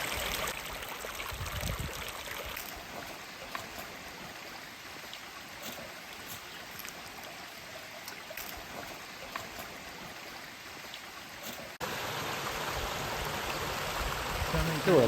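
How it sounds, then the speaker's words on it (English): Steady broadband rush of a clear mountain creek on a steep trail in Arizona's Chiricahua Mountains, close and continuous for the whole stretch, a little louder and brighter toward the end, with no voices over it. "this is the main stream on the original trail."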